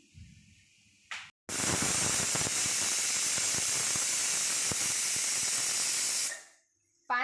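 A pressure cooker holding mixed vegetable khichdi lets out a loud, sustained hiss of escaping steam for about five seconds, with a short burst just before and another right after it, and no talking.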